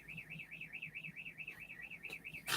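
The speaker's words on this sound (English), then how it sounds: "we have an alarm again" A car alarm wails steadily in a rising-and-falling siren pattern, repeating evenly at moderate distance, ending with a sudden loud burst of noise.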